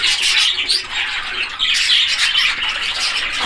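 Caged budgerigars kept for sale fill the air with a dense, loud, continuous chatter of shrill chirps and squawks, heard close up and unbroken with no voices.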